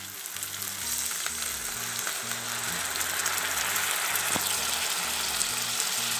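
Masala of chilli, turmeric and cumin powders fries in a pan with a splash of water, giving a steady, close, fairly loud sizzle that holds throughout, with a low rumbling hum beneath.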